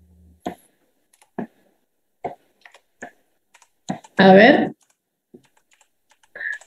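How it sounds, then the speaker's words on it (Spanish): Students typing on computer keyboards during an online discrete mathematics class, heard as scattered isolated key clicks and taps spread across the moment, with brief spoken words from a person in between. "Están escribiendo a full porque los escucho."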